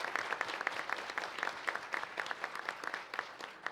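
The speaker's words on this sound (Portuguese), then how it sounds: "eu quero uma salva de palmas para essas duas atrizes" Audience applause for two actresses at a rare-diseases awareness event, a fairly faint but continuous patter of many hands with individual claps standing out in an uneven rhythm.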